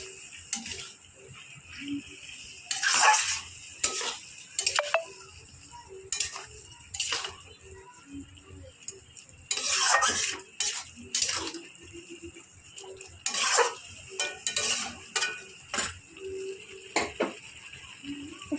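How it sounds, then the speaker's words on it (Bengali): A spoon scrapes and clinks against a pan while pumpkin leaf paste with prawns and a little sugar is stirred, irregular bursts of ticking scrapes coming in clusters with short pauses, close and moderately loud. "আর একবার একটু নাড়ানাড়ি করে নিই।"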